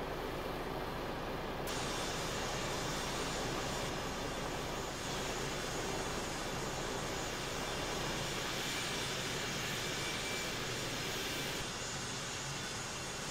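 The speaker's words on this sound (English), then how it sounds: "Let's have a look at that plane." A jet airplane flies overhead in Euro Truck Simulator 2, set over North African desert; a steady, loud broadband engine roar holds for about thirteen seconds with no speech.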